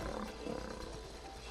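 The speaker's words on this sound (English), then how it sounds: "Lion. Lion." A lion in the video game It Takes Two lets out a full, loud roar that carries steadily across the moment without any voices over it.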